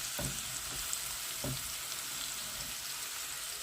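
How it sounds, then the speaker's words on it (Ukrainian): Grain and onion sizzle steadily in a pan as carrots are tossed in, a soft continuous hiss with a few brief stirring knocks, no voices. "Посмажила зерненько, закидаємо морку"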